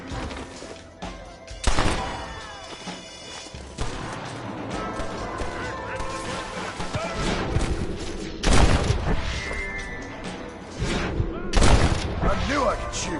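Gunfire in the Western video game Red Dead Redemption: scattered loud shots and booms ring out over a busy, continuous game soundscape, with voices talking through it.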